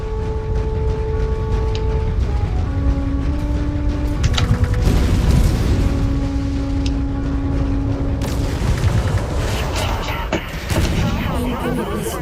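In the mech combat game MechWarrior 5, with joystick controls, heavy booming explosions and rumbling impacts from incoming missile fire roll over a dense mechanical din, with steady electronic warning tones sounding on top.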